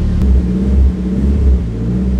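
A car with a freshly swapped engine rumbles and revs up as it pulls away on its first clutch test, close and loud, with deep engine surges rising and easing.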